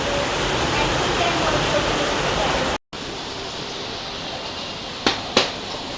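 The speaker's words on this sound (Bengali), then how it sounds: "বন্ধুরা বাইরে অঝরে বৃষ্টি পড়ছে" Heavy monsoon rain pours outside on an evening, a dense steady hiss that briefly drops out, followed by a couple of small knocks.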